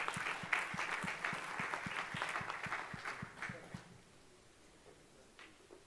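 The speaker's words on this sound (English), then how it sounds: "Please give them a huge round of applause as Michiel makes his way to the stage." Audience applause for conference panelists at an airports cooperation conference, a steady burst of clapping with a few louder individual claps that fades out after about four seconds, leaving quiet room tone.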